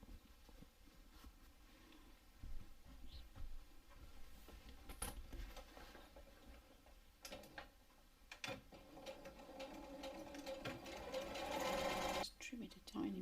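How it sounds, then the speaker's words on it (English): Sewing machine stitching across the corners of a fabric lunch bag and its lining, running in several short bursts at close range with faint talk mixed in. "sew across, and do that on all the corners for the bag and the lining"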